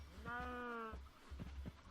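Minecraft cow giving a single drawn-out, low, harmonic moo, with a few soft clicks and thuds of game sounds around it, faint overall.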